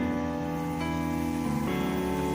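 Onions fry in hot oil in an iron kadhai with a dense, steady sizzle that crackles close by under a constant low hum, and no one speaks.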